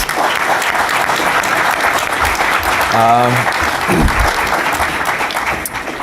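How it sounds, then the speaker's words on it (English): A roomful of people at a MobileMonday Toronto tech event claps for a panel, steady close applause that lasts several seconds, with a voice briefly calling out partway through. "So a little round of applause for the panel and Duncan."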